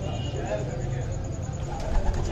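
Low, steady cooing of pigeons throughout, blended with a murmur of voices and background bustle.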